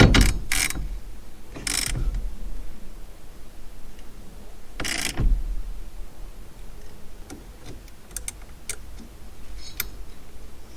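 A ratchet tightens the center nut of a steering wheel on a third-generation Camaro, sounding as a few sharp, close clicking bursts followed by quieter scattered ticks.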